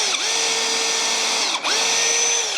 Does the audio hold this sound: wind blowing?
no